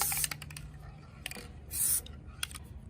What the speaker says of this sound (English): we'll just spray paint over it